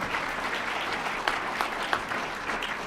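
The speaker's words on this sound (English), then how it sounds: "Let's give her a round of applause." A crowd claps steadily in sustained applause, dense and even, with a few sharper claps standing out.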